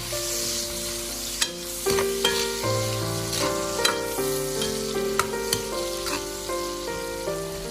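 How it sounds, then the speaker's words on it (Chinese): Bacon stir-fried with garlic and dried chili in a wok: constant loud sizzling broken by scraping spatula strokes and occasional metallic knocks, close up with no voices. "再下入大蒜、干辣椒节，再快速的翻炒，炒出它们的香味"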